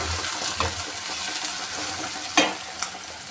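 Onions and other ingredients fry in a pan for a prawn, drumstick and egg curry, giving a steady close sizzle broken by a couple of sharp spatula scrapes.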